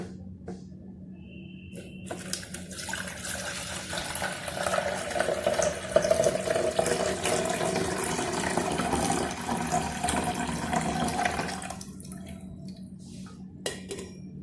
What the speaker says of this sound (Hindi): इस जगह पे हम पानी डाल लेते हैं।